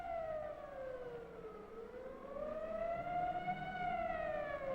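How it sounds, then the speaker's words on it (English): A 1950s civil defense siren wails alone, its pitch dipping then rising slowly in a long sustained tone, loud and steady. "the siren sounds once more."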